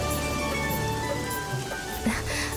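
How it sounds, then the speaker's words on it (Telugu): Sudden rain falls on a surface outdoors, a dense steady patter of drops, moderately loud and continuous, with faint background sounds and no clear speech. "ఇదేంటో ఉన్నట్టుండి వర్షం పడుతుంది"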